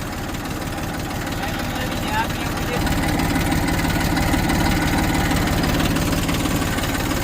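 A tractor engine running nearby, a steady, rhythmic diesel chugging with a knocking pulse that grows slightly heavier partway through, with a voice talking over it.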